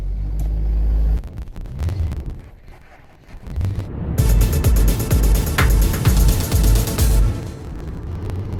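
Rumbling road noise from a truck hauling a loaded C8 Corvette, a heavy low drone with wind buffeting and bumps, dipping briefly before a louder, rougher stretch.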